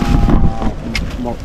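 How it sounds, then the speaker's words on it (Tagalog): Loud gusting wind buffets the microphone with heavy low rumble during an overnight fishing trip, while a voice speaks briefly beneath it. "grabing hangin, lakas"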